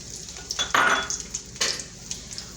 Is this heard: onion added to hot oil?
yes